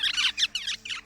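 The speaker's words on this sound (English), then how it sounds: "This is the sound of a rosella." A rosella calls in the video game Vampire: The Masquerade – Bloodlines: four quick chirpy, squeaky bursts in a rapid run lasting about a second, fairly faint with no talk over them.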